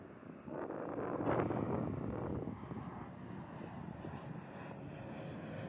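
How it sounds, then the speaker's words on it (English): Wind blowing outdoors, buffeting the microphone with a low, rumbling roar that swells early and then settles into steady gusty noise. "it's very windy here"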